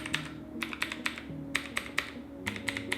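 Clicky mechanical keyboard switches, Gateron and Outemu Blues, are typed on in short, uneven bursts of sharp, close clicks over a faint steady hum, with no talk.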